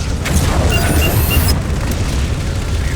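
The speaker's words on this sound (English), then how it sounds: "Target those phantoms for the railgun to shoot down." Heavy booming blasts from a railgun firing at Phantom dropships in the Halo 4 video game, loud and continuous over a dense rumbling battle bed for about three seconds.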